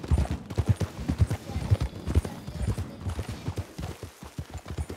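Hooves of a worn-out horse clip-clop at a steady trotting rhythm in a Wild West video game, close and clear, with each hoof strike landing as a distinct thud and no voices over it.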